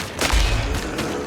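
A bomb blast in the shooter video game Phantom Fury, a loud burst with a deep low rumble that swells and decays over about a second, with crackly debris-like noise trailing behind.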